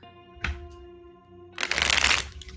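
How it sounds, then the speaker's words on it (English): A tarot card deck is shuffled twice: a short riffle burst, a pause, then a longer, louder riffling flurry close by, with no talk. "I'm going to get the deck all shuffled and warmed"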